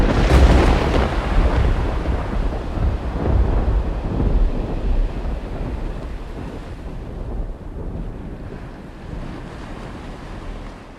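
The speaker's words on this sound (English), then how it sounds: "driving rain, accompanied by lightning and thunder that arced down from the shadowy gloom overhead" A rumbling thunderstorm with driving rain and gusting wind, a loud broadband roar from the start that slowly eases, with low rolling thunder blended into the steady wash.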